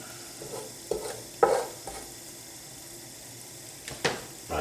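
Cumin seeds frying in a hot pan for a chicken madras give a soft, steady sizzle, broken by a few sharp scraping stirs close by, with no talking.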